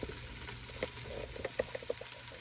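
Chunks of oxtail meat going back into a pan with sauteed garlic, setting off a soft, steady sizzle with light scattered taps and clatters of meat against the pan.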